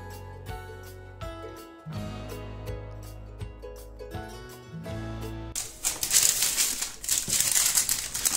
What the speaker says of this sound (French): je vais me saisir d'un papier cuisson